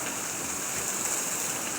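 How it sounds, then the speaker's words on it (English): Steady, hissing rush of water flowing down a swampy roadside ditch from the mountain along a hollow road, continuous and fairly quiet with no talk. "Water coming off that mountain."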